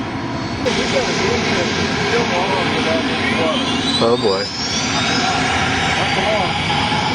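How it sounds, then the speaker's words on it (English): A burning jet aircraft's engine roars steadily as it powers up, a loud continuous rumbling whine from a distance, with people talking and exclaiming over it. "The jet is now powering forward."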